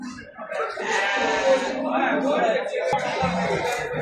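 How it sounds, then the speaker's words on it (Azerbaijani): Georgian lambs bleat amid a busy livestock market for sheep, goats and cattle, their cries mixed with nearby men's chatter and a constant murmur of voices. "Gürcüstan quzuları."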